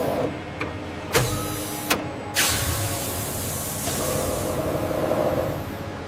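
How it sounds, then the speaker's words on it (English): A watermelon pulp dicing machine runs in a factory with a steady mechanical whir, broken by a few sharp clacks and a hiss near the start, and no talking. "Watermelon pulp enters the dicing machine, ready for precise transformation."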